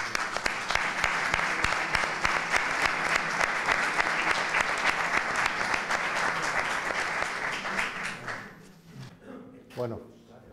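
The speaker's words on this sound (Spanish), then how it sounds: "un fuerte aplauso para ellos." Audience applause at a bullfighting-themed evening talk honoring a family dynasty of bullfighters: dense, steady clapping from a full room for about eight seconds, then thinning out, with a voice and a few stray sounds at the end.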